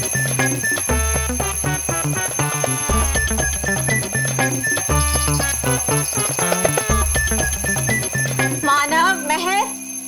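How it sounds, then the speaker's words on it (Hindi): An alarm clock rings in repeated bursts amid busy, musical background sound, loud and continuous throughout. "ये अलार्म क्लॉक इन लोगों को जगाने के लिए होता है"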